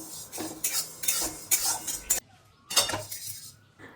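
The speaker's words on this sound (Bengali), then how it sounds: "ডালটাকে হালকা একটু ভেজে নেব। খেয়াল রাখবেন ডাল যাতে পুড়ে না যায়। এভাবে নাড়াচাড়া করলে কালারটা একটু চেঞ্জ হবে।" Moong dal dry-roasting in a pan, stirred in bursts of dry scraping and rattling against the metal, close and moderately loud, with short pauses between strokes.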